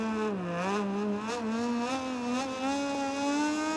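A motorcycle engine in MotoGP 20 revs high and steady, its pitch rising and dipping through gear changes, loud and close with no talk.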